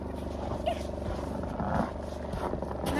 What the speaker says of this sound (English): Sorry for the generator noise.